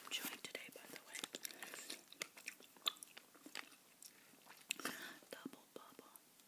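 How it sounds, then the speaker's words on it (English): Bubblegum being chewed very close and quietly, with soft wet smacks and clicks in an irregular rhythm under faint whispered talking in a soft-spoken, intimate setting. "Here's some bubblegum I'm chewing today, by the way."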